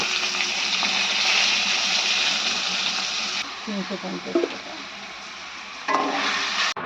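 Food sizzles and fries in a pan on a home kitchen stove while a lunch of bitter gourd fry and fish curry is cooked, a steady loud hiss with some stirring clatter and a brief voice near the end.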